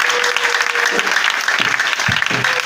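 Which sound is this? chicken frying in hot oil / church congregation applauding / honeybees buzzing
church congregation applauding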